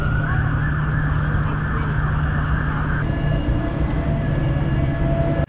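Emergency vehicle siren on a busy London street, a steady wailing tone that shifts pitch midway, loud and continuous over dense traffic and city rumble, with no talk.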